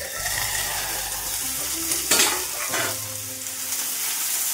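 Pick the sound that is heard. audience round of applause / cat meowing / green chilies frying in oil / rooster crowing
green chilies frying in oil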